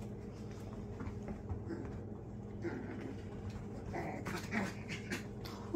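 Puppies growl steadily as they play tug-of-war, with low rumbling snarls and an occasional whimper running through the whole stretch at a moderate, close distance.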